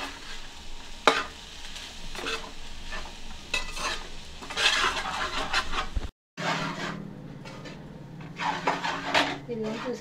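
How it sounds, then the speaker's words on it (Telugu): A spoon stirs biryani in a pot over low heat, making repeated scraping and rubbing strokes against the pot with soft sizzling underneath. The strokes come in irregular bursts, close and fairly loud, with a brief silent gap partway through. "అడుగట్టకుండా అయితే ఇలా కలుపుకుంటూ ఉండాలి."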